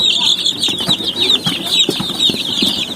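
Young native chicks about fifteen days old, among them Rhode Island chicks, give a steady chorus of high, overlapping cheeps close by, over soft scratching and shuffling.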